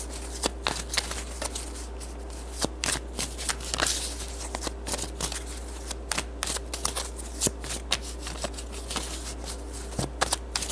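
Romance angel cards are shuffled close up, with repeated sharp riffling bursts at an irregular rhythm over a steady low hum and no talking.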